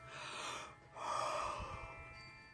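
A drawn-out yawn from a tired rabbit character in a French bedtime story, voiced by the storyteller: a breathy intake, a brief pause, then a longer, fuller exhale, close and alone.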